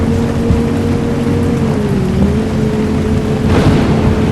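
Rain hisses steadily on a vehicle in the Bus Simulator Ultimate video game, with a low engine drone underneath and a soft swell of thunder near the end.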